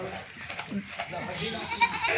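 Rajanpuri goats on a farm that sells does with kids, bleating faintly in the background while someone talks over them throughout.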